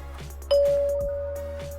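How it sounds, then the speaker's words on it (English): A mechanical doorbell chime strikes a single clear, ringing tone that sustains and slowly decays, preceded by faint clicks and handling noise, close and alone. "every time you press the doorbell, one of these moves up and down and hits against one of these bars here. And it creates a tone."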